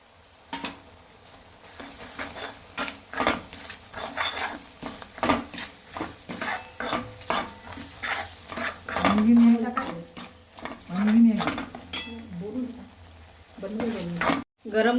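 Dhopa vadi vegetable being stir-fried with turmeric, chili and salt in a pan, repeated scraping and stirring strokes over a soft sizzle, close and rhythmic.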